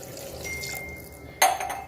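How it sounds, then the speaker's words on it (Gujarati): A glass of water is poured into spiced potato curry in a cooking pot, giving a short burst of splashing and pouring near the end after a quiet, low background. "આ રીતના 1 ગ્લાસ પાણી નાખી દઈશું"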